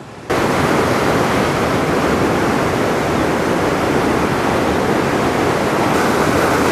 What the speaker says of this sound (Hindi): तो दोस्तों ये चेक करें पानी की स्पीड और आवाज़ कितनी ज़्यादा खौफनाक आवाज़ है